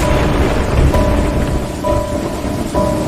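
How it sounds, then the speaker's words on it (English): Dense, heavy rain pours continuously, a thick hiss with low rumbling underneath and a few faint tonal hums drifting through. "Outside, the rain grew heavier."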